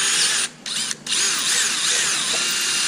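A power drill whines steadily as it bores a hole in a Yamaha Banshee 350 carburetor, briefly easing off twice before pressing on, close and alone.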